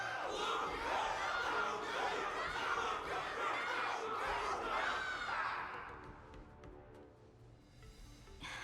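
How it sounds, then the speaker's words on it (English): A loud, dense crowd cheers and shouts in the video game Honkai: Star Rail, a sustained roar with excited voices that fades into quieter background murmur near the end. "Can't you hear? Everyone's cheering for you, Luca!"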